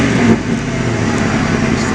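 A Ford Crown Victoria's engine runs loud and close with a steady, throaty rumble, a slight swell at the start suggesting a light rev, then holding at an even idle.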